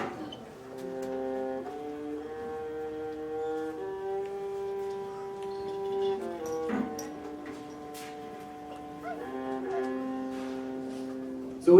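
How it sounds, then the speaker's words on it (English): A viola plays slow, deep, sustained bowed notes in a mournful line, steady and fairly close, each tone held before shifting to the next, with no talk over it. "since it's a bigger instrument, it has a deeper sound."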